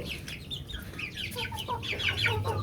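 Aseel chickens cluck close by while their chicks cheep in high, quick peeps, a busy overlapping chatter from the flock with no voices.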